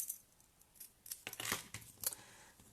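Scissors snip through a sheet of paper in a card-making craft session, giving a few quick, crisp cuts close by that rise to a louder burst midway, with no talking.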